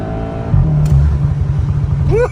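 Hand-controlled Volkswagen GTI making over 300 hp revs hard in first gear under boost, a loud, steady near engine roar with a rising whine and a brief higher sweep at the end.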